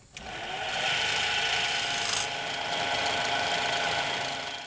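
A wood lathe runs steadily in a small workshop shed, giving a continuous rasping, rubbing whir as wood is turned, with a brief louder surge midway and no talking.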